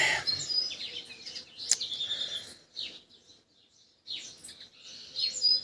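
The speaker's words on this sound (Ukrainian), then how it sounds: "Пташки співають." Several birds chirp and twitter in bright, overlapping bursts, close by and fairly lively, with a brief lull midway before the singing picks up again.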